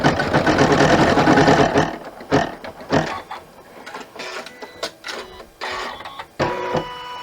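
An embroidery machine stitches a tissue pack cover in the hoop, a loud rapid mechanical whirr at first, then breaking into short stop-start bursts of stitching, close by.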